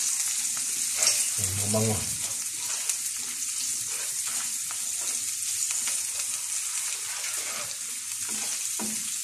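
Beef cubes fry in a pan, a continuous loud sizzle with occasional scraping stirs, and a voice briefly speaks over it early on.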